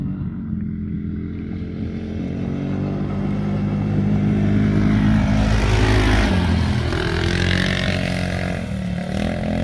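A Polaris RZR 170 side-by-side driven by a kid around a carved dirt track outdoors, its small engine droning steadily and rising as it accelerates and passes close, then easing off.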